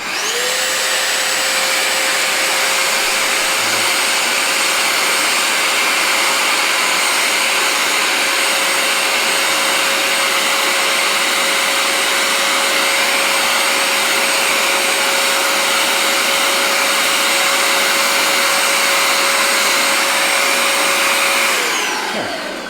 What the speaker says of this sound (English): take a hand vac and just clean it out like so